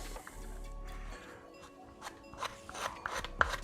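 A car driver's seat adjuster mechanism being wound by hand, greased where it rubs on plastic, giving off a soft scraping, rasping rub that grows stiffer, with a few sharper clicks near the end, close and fairly quiet.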